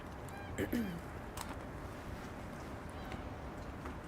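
Ducks calling in a short burst of nasal honking cries near the start, followed by quieter scattered calls over a steady low background.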